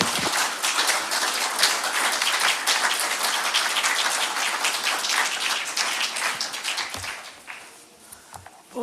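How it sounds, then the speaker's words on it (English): Sustained applause from a conference audience at a Schiller Institute event, dense and steady clapping filling the room, tapering off toward the end. "Merci de l'applaudir."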